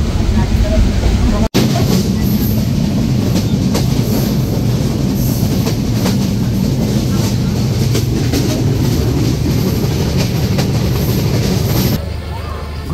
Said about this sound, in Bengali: ট্রেনটি প্রবেশ করলো আলমডাঙ্গা রেলওয়ে স্টেশনে।